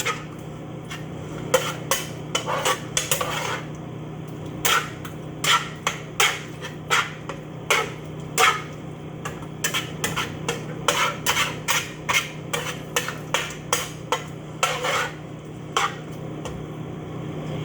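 A spoon stirs spoon burger mixture in a bowl, giving a long series of sharp knocks and scrapes against the bowl in an uneven rhythm, close and clear, with no talking.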